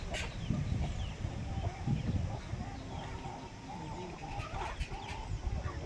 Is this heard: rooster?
yes